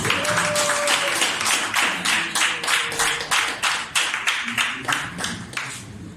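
A church congregation claps in unison, a loud, steady rhythmic beat of many hands that grows sharper and more distinct toward the end, with faint voices under it.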